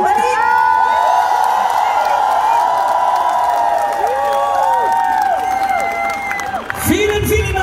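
At a Schlager concert in Berlin, a large audience cheers, whoops and applauds loudly and continuously, with shrill high cheers and whistles over a dense bed of clapping before the crowd noise briefly dips near the end.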